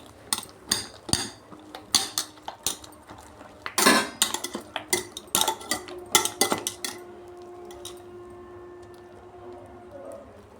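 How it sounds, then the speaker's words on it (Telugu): Lentil batter for pakam garelu is mixed with salt and baking soda, the spoon clinking and scraping against the bowl in a quick, irregular run of close knocks that trails off into quieter scraping. "ఇలా బాగా కలుపుకొని ఒక ఐదు నిమిషాలు బాగా మిక్స్ చేసుకోవాలి"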